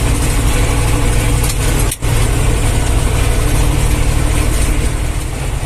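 A T-25 tractor engine runs on a village road while hauling sand. The diesel makes a loud, steady, close chugging drone with only a brief dip near the start.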